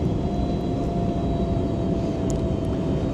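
An American Airlines passenger jet lands at Los Angeles International Airport, heard from inside the cabin as a loud, steady low roar of engine and airframe rumble with no voices.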